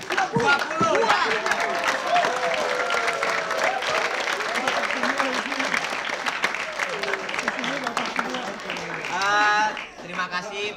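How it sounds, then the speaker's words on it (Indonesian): Studio audience applause on an Indonesian TV quiz show, dense sustained clapping filling the room for several seconds, with a voice talking over it and the clapping fading near the end. "Tepuk tangan buat Mita"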